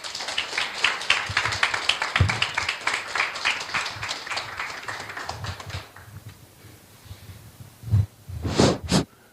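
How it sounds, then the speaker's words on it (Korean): Clapping from an audience welcoming a lecturer to the stage at a Korean history lecture, a dense patter through the first six seconds that fades, then a couple of louder bursts near the end. "큰 박수로 환영해 주세요."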